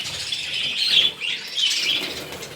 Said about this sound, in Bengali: কিছু ফিঞ্চ পাখি আছে,